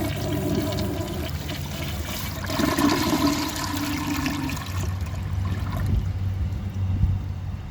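A 1990s low-tank Kilgore toilet flushes with a loud, rushing surge of water that churns on for several seconds, then settles into a lower gurgling refill close by.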